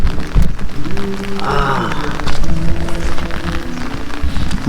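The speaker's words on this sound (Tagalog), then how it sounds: "Maulan talaga." Steady rain falling outdoors during a typhoon with little wind, a dense continuous patter close by, with a person's voice briefly in the middle.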